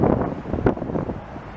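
Gusts of wind buffet the microphone while walking along Côte-de-Liesse Boulevard in Montreal's Town of Mount Royal, producing low rumbling thumps and roaring bursts over a brief stretch.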